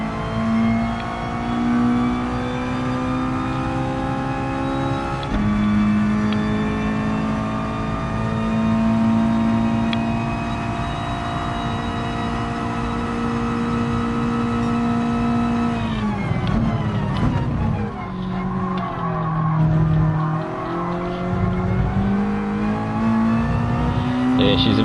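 Race car engine in the video game GT Sport, droning at steady high revs with a sustained whine, then dropping and climbing again through gear changes near the end, loud and continuous with no voices.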